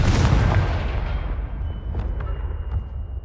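A Confringo fire spell blast in Hogwarts Legacy, a loud booming burst that rolls off into a fading rumble, followed by a few faint ticks.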